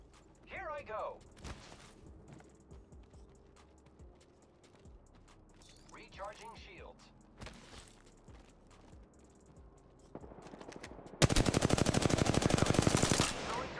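Gunfire in a fast-paced shooter video game comes as a sharp, loud automatic burst near the end, with earlier mechanical clicks, reload sounds and short game effects, while players talk.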